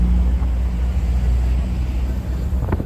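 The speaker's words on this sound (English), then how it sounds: "Yeah, that's a Porsche." A Porsche sports car engine idling and rumbling close by on a Las Vegas street at night, a loud steady low drone with slight fluctuations and street ambience around it.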